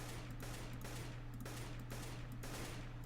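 AK-47 gunfire in CS:GO, heard as steady repeated automatic bursts at even intervals over a constant low game hum, with no talk.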